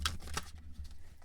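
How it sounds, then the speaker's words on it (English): Oracle cards being shuffled by hand, a soft papery riffling and sliding with a couple of sharper flicks at the start, close and quiet with no voices. "I'm going to shuffle because I have not done it sufficiently yet"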